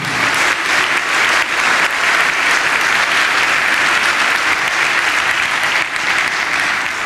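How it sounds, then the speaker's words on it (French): A conference audience at the BlendWebMix opening plenary applauds with dense, sustained clapping that fills the room at a steady level from start to finish. "Je pense qu'on peut applaudir Fred d'avoir partagé."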